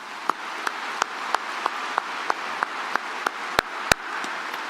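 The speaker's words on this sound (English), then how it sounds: "Please join me in giving them a round of applause." A commencement crowd applauds in a soft, continuous wash of scattered clapping, with several sharper individual claps standing out close by in an irregular rhythm.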